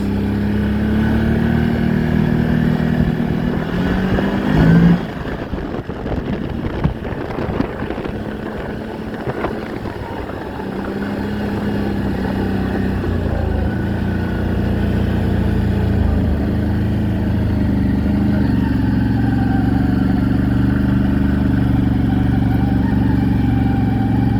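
A 2023 CFMOTO 1000 Overland with a cranking issue drones steadily as it is ridden, its engine hum mixed with heavy wind buffeting on the microphone and a brief rougher surge near the middle.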